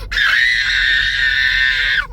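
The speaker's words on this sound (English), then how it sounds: "Stop the screaming!" A high, piercing scream rings out in Glasgow city centre, loud and close, one continuous shriek lasting about two seconds before cutting off.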